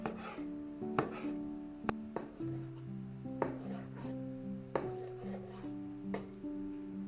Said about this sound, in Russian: И теперь полоски нарезаю на маленькие кусочки